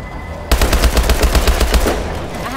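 Rapid automatic gunfire from Call of Duty: Advanced Warfare's Exo Zombies mode bursts in abruptly after a quiet moment, a dense, loud rattling stream of shots that tapers off near the end.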